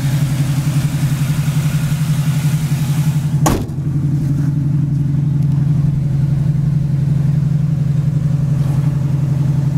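A 1982 Oldsmobile Cutlass engine runs close and loud in a steady, even drone, broken by one sharp click partway through before the hum carries on unchanged.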